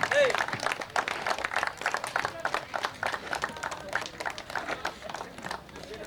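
A crowd applauds at a cricket tournament award ceremony, with steady close clapping running throughout and rising and falling in waves, while a voice speaks over it.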